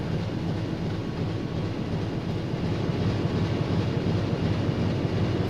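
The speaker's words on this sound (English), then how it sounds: "Freaking engines are making a heap ton of noise" Submarine diesel engines drone in the UBoat video game, a loud, steady low rumble with a dense mechanical roar that holds evenly throughout, without voices.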